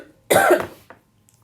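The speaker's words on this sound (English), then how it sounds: "I keep coughing on this one" A single harsh cough bursts out close to the mic, followed by a brief smaller catch of breath, then quiet.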